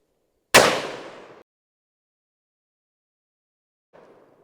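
A 500 Magnum revolver fires at targets outdoors: one sharp loud shot with a short decaying echo, then silence, then a faint distant pop near the end.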